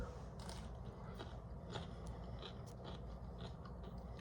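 Crunchy slicer cucumber being bitten and chewed up close, a run of short crisp crunches over a steady noisy background with no speech.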